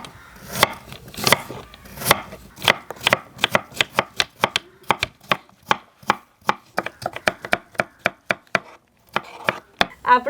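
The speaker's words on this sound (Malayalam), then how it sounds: "നമുക്ക് കുറച്ച് ആപ്പിൾ അരിഞ്ഞെടുത്താലോ?" A knife chops apple on a cutting board for a fruit falooda dessert, with a fast rhythm of crisp close knocks, about four per second, and a brief pause near the end. No one speaks.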